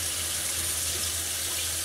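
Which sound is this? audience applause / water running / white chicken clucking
water running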